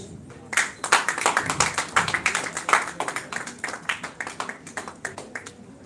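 An audience at a film festival award ceremony in India claps in a looser, distinctly rhythmic round of applause, individual claps standing out with fairly regular beats, slowly thinning toward the end.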